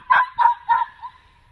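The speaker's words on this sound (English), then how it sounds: "You bark so much." A dog barks three times in quick succession, with a fainter fourth yip trailing off, close and clear with no talk over it.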